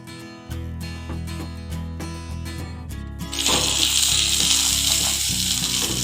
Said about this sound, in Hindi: ऑयल गर्म हो जाएगा तो इसमें मैं हरी मिर्चें डाल दूँगी और इनको 3 मिनट के लिए फ्राई कर लूँगी